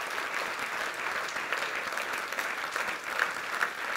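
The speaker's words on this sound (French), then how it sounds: "je vous demande cette fois de tous les applaudir parce qu'ils sont formidables" A crowd claps steadily throughout at a New Year's greetings ceremony in Cassis, a dense, even applause with no voices rising above it.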